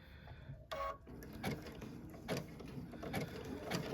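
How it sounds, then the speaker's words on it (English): A sewing machine stitches around a rope bowl, giving a quiet, close mechanical whir with rhythmic clicking pulses and a brief louder burst near the start. "And so I'm just gonna keep sewing."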